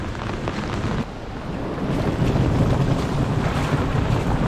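Heavy rushing floodwater torrent after a downpour in Krynica-Zdrój, with wind buffeting the microphone, a continuous churning roar that swells louder midway.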